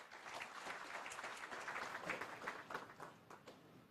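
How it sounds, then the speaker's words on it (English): Applause from a formal government audience honouring the Diplomatic Corps at a ministerial address, dense overlapping claps of moderate loudness rolling steadily through. "Let's give them a round of applause."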